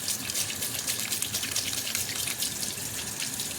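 Water runs steadily from a tap while hands are washed under it, making a constant, fairly soft gushing splash with small irregular splatters and no talking.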